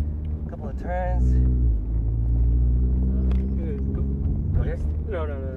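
A 2006 Mini Cooper S R53 with a 6-speed manual drives through a couple of turns, its engine a loud, steady low drone inside the cabin with people talking over it.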